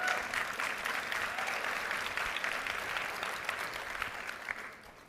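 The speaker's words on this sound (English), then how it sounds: "If swears get applause, I'll do more." Conference audience applause fills the room, steady and fairly distant clapping that holds for several seconds before thinning out at the end.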